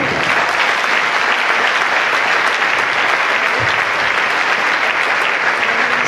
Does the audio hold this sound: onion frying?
no